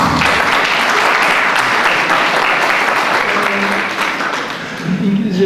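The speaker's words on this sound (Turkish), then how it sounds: "İngilizce bilenler anlıyor, alkışlıyor" A lecture audience breaks into sustained applause, dense loud clapping that holds steady throughout and dips briefly near the end before swelling again.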